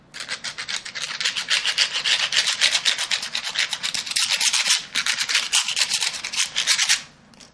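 Something is rubbed briskly back and forth over a surface to scratch off excess burr during tattoo preparation, giving a steady rhythmic scraping that continues loud and close for about seven seconds before stopping abruptly.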